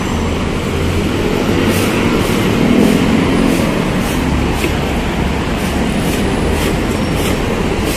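An MRT train passing near Trinoma station in the North area of Manila makes a loud, steady rumbling roar with rhythmic clickety-clack from the wheels on the rails, heard up close throughout.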